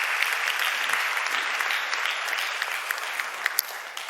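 A church congregation claps in welcome during a Sunday worship service, a steady, dense wash of many hands applauding throughout, fairly close and even in loudness with a few sharper claps standing out.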